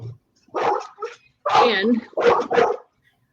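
A dog barks several times in short sharp bursts close by, mixed with a person talking over it.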